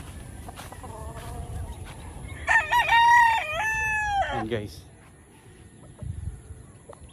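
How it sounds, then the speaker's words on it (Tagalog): A rooster crows once, loud and drawn out, over a quiet farm background with a few scattered clucks from the flock of chickens and a brief spoken remark. "Napakadami manok"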